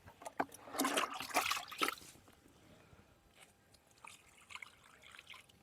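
Water is poured into a fertilizer slurry for spinach in a garden, making a close, splashy gush for about a second followed by softer trickling and dripping.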